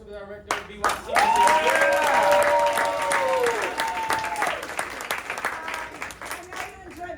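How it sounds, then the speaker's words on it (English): Loud audience applause and cheering after a youth theatre company show in Brooklyn, a dense burst of clapping that swells quickly, holds, then tapers off with scattered claps. "one more round of applause for the director of BYC."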